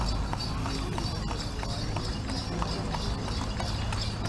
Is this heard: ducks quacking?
no